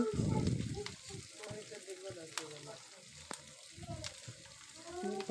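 Spices with ginger and garlic fry in a pan with a crackling sizzle, a thick burst at the start and again near the end, scattered scrapes and pops between, and a voice speaking over the cooking.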